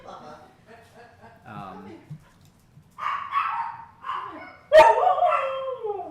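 A dog named Finn barks and yips close by in a home during an informal gathering, with short whimpering yelps and a louder bark burst near the end.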